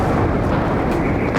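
A missile explosion near Lviv comes across as a loud, dense, roaring rumble that fills the whole moment without a clear pause.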